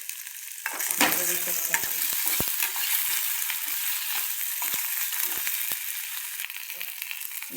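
Raw potatoes and green chillies frying in a pan, a steady bright sizzle with scattered clinks and scrapes of stirring, a short spoken phrase briefly over it.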